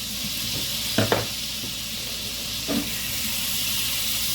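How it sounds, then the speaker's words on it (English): Sauce sizzles steadily in a hot pan with a constant hiss, broken by a few brief scraping stirs of a utensil against the pan, close and alone with no talk. "Stir around the sauce."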